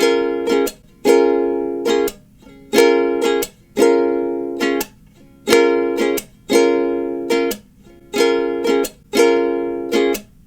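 A ukulele strummed at a slow, steady tempo, each bright chord burst followed by a short muted slap, repeating evenly with no voices.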